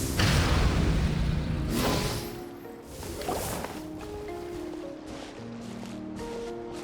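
A boat in the Genshin Impact video game surges forward at full throttle with a loud rushing whoosh of water and wind that eases after a couple of seconds, while tonal game music carries on underneath.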